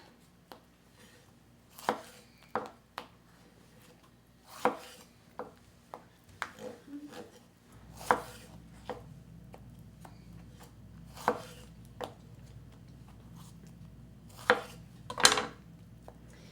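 A knife chops fruit for a fruit salsa on a cutting board, giving a series of sharp, close, irregular thuds spaced a second or so apart over a quiet background.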